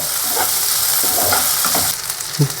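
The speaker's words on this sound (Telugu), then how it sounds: "కట్ చేసుకున్న ఆనియన్స్ అయితే వేసేద్దాం ఎర్రగడ్డలో ఆనియన్స్ వేసుకొని బాగా ఏగనివ్వాలి" Chopped onions with curry leaves frying in hot oil for a potato curry, a loud, close, steady sizzle with a few stirring scrapes and no talk.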